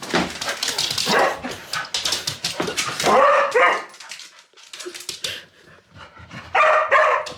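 Close, loud barking from a dog, several yaps in quick succession with a brief lull before a final burst.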